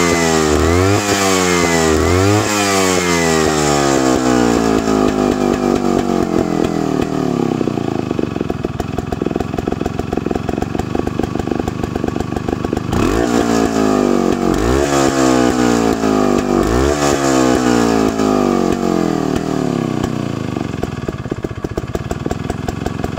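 A Robi 151 two-stroke engine runs alone and loud, its note rising and falling in repeated revs before settling toward a steady, buzzing idle throughout.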